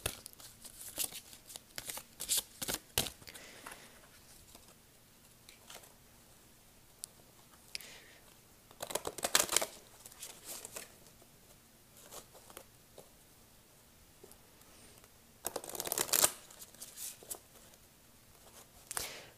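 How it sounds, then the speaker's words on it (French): Deck of tarot cards being shuffled, quiet riffling bursts and soft shuffling scrapes recurring in irregular clusters against a faint, still background. "je vais sortir le jeu et on va le brasser"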